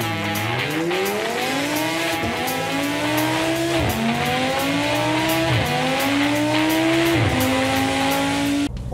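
Seat Leon 2 1.6 TDI on a road test, its engine note rising steadily through several gears with brief dips at each shift, loud and continuous throughout.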